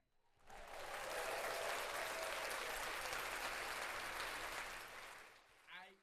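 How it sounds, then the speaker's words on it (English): An audience breaks into applause on a talk show, a faint, steady wash of clapping that swells in, holds for several seconds and tapers, with a brief voice near the end. "Let's clap that up."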